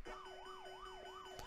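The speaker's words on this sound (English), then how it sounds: "So start sound Pac-Man extra life, which sounds like this" Pac-Man's extra life sound: a rising and falling electronic warble, like a short siren sweep, repeats about four times in quick rhythm, thin and game-like.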